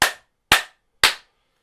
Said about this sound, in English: I do a little clap.